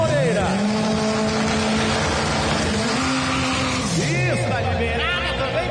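Race cars start an Armageddon drag-style battle in Goiânia, engines revving and rising in pitch as they launch and shift, loud and close, with an announcer talking over the roar.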